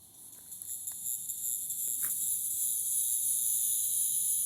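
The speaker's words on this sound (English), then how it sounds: "the cicadas have started to do their thing" Cicadas buzz from a live oak in Kaplan, Louisiana, a steady high-pitched drone that holds throughout, with a few faint clicks beneath and no talking.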